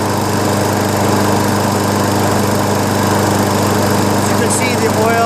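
A Craftsman 7.0 Platinum lawnmower with a Briggs & Stratton engine and auto choke runs steadily at close range, burning off oil in the muffler, giving a loud, unbroken droning whine throughout.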